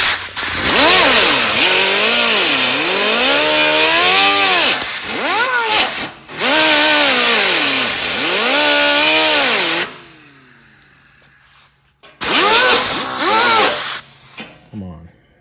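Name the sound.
black angle grinder grinding aluminum truck bed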